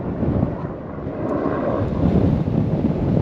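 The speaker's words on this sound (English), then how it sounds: "Goodness, that wind is awful." Strong wind buffets an outdoor microphone near a large wildfire, producing a loud, continuous low roar and rumble that fills the whole stretch without a break.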